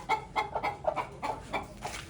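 Frightened chickens that have wandered outside on a hot day give a run of quick, repeated clucks, close by and fairly loud, with short broken bursts through the whole stretch.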